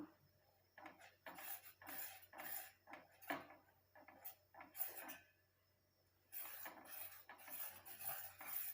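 Homemade hair oil being stirred in a pan over a low flame, with a utensil scraping and clinking against the metal in irregular strokes, close and fairly loud, followed by a steadier run of rubbing scrapes.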